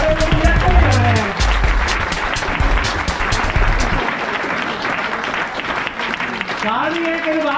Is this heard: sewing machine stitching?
no